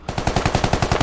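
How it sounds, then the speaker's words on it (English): Rapid automatic gunfire in the Squad video game, a fast, evenly spaced burst of about a dozen loud, close shots. "Shots being fired on the squad northwest"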